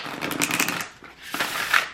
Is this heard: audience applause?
no